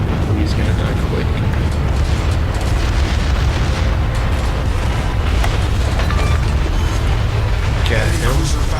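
Heavy rumbling naval gunfire and explosions pound continuously as a destroyer is shot apart in World of Warships, a dense, loud roar of booms and bursts that goes on without pause.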